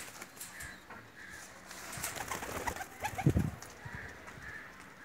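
Teddy breeder female pigeons, a Pakistani fancy breed, give soft low cooing, loudest around the middle, with faint bird calls and light background noise.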